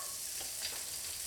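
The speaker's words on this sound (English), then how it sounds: "Saute the garlic." Garlic sautéing in oil in a pan, a faint, even sizzle with soft crackles over a short stretch.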